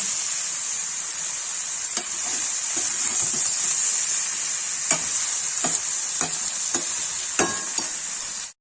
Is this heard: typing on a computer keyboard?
no